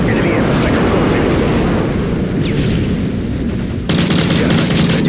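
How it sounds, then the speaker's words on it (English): Enemy airstrike in Modern Warfare 3 multiplayer Search and Destroy, a dense, continuous roar of rumbling explosions and gunfire that stays loud throughout, with a sudden shift in texture near the end. "Enemy airstrike approaching."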